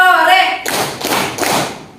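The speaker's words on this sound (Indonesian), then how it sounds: "Kalau Ustazah bilang tepuk sore, tepuknya 3 kali" A class of students clapping three times on cue in an Islamic religious education lesson, three strong, evenly spaced claps right after a woman's spoken prompt.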